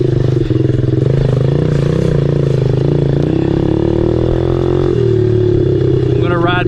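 A Honda CRF110 pit bike engine runs loud and close, a steady buzzing idle with slight throttle shifts, while people talk over it.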